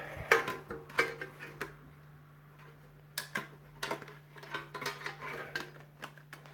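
Metal camping gear, a knife, fork and stove kit, is handled at close range, giving scattered light clinks and ticks over a steady low hum.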